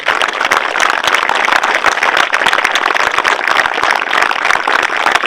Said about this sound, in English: Let's give a round of applause for everyone at the top.